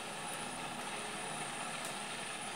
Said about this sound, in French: Vous pouvez aller prendre l'autre hélicoptère.